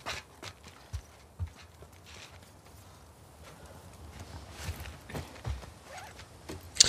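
Horse hooves clip-clop at a relaxed walking pace in The Last of Us Part 2, scattered soft thuds on hard ground with faint background ambience and no talking.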